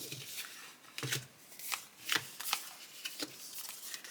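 A deck of oracle-style game cards is shuffled close up in several quick riffling bursts separated by short pauses, crisp and papery with no talking.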